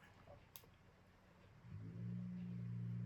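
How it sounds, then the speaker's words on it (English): A car engine revs up in the background, rising partway through into a steady droning roar that holds to the end, faint and somewhat distant after a quiet stretch. "somebody's revving the arse out of their car right there."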